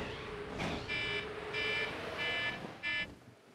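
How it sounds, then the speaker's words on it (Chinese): Alarm clock going off during a late-night game session, four short repeated beeping bursts at regular intervals over a steady background noise. "闹钟响"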